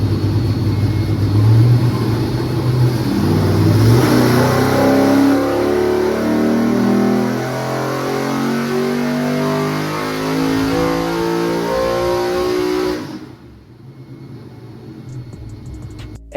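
A supercharged Chevrolet Silverado 5.3 truck engine on an engine dyno revs hard and steadily at high load for about thirteen seconds, then drops abruptly to a lower, quieter idle.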